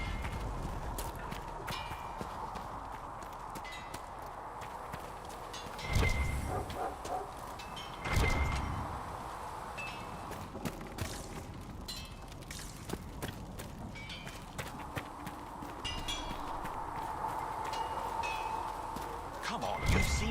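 Horse mounts walk in Dragon Age Inquisition, a steady clip-clop of hooves that runs through the whole stretch with a few louder thuds, mid-distance, under intermittent talk.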